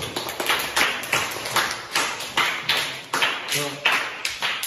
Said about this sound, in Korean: 자, 그럼 이제 박수.